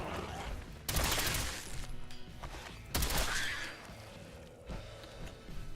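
Bursts of gunfire from a Fallout 4 firefight, two loud volleys about two seconds apart followed by scattered quieter shots and background game noise, with no talking.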